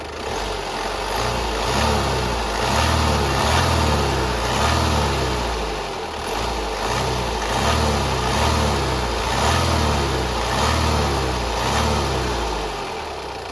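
A Honda Jazz car engine revving, loud and close, rising and falling in a steady throbbing pulse with no talking over it.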